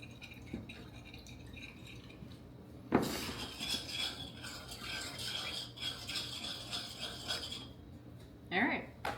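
A spoon stirs beef jerky marinade in a bowl, producing faint clinks, scrapes and swishing liquid in a continuous uneven patter, with a sharper knock near the start and another clatter toward the end.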